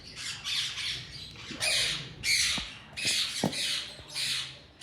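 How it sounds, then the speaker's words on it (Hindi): A pineapple conure paired with a red-factor yellow-sided conure squawks in loud, harsh bursts, about six repeated calls close by with short gaps between them. "ये वाला पेयर है पाइनएप्पल कनोर के साथ येलो साइडेड कनोर, जो कि रेड फैक्टर में है।"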